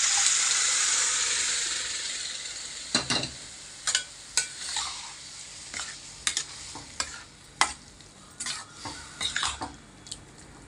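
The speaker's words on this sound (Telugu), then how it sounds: "ఇవన్నీ వేసి చక్కగా వేయించుకోవాలి" Chopped vegetables with pav bhaji masala frying in a pan: a steady broadband sizzle that fades slightly, broken by repeated sharp scrapes and clacks of a spatula stirring against the metal, with no talking.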